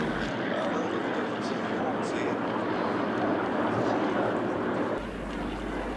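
Soviet and Chinese Nanchang aircraft racing at low altitude around pylons, their propeller engines making a steady droning roar, with a commentator talking over it throughout.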